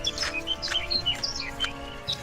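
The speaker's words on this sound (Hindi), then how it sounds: "चिड़िया के चहकने की आवाज सुनाई" A bird chirps as a sound effect in an animated story, giving a quick run of bright, high tweets in short bursts, fairly close and clear over a quiet background.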